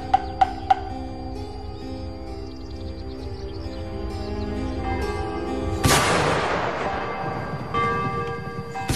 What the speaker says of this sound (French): Je fus réveillé en pleine nuit par le son des cloches et des canons.